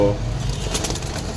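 Soft cooing from Jalali pigeons close by on a pigeon farm, with flapping wings and a faint background hum.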